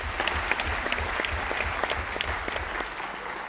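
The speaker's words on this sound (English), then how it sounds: "Can we give Candice a round of applause for her contributions?" A conference hall audience at the 2019 Labour Party Annual Conference applauds steadily and loudly throughout, a dense, continuous wash of many hands clapping with no talk over it.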